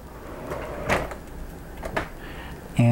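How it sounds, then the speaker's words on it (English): Soft-close slide-out drawers in a custom bumper pull travel trailer, quiet muffled sliding and a few soft thuds as they glide and settle, close by in a small room. "I have permission to show you the slide out drawers in here. So all soft close."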